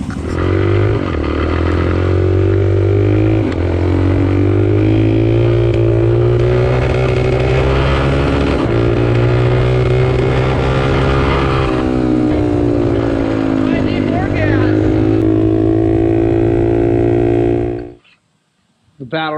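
Travis Pastrana's Suzuki motorcycle engine runs loud and close for about eighteen seconds, a steady droning rumble with rising and falling revs as it is ridden, then cuts out abruptly near the end.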